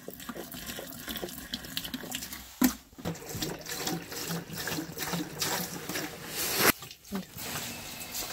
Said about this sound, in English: we pour the antifreeze down the drains to make sure that all the traps have antifreeze in them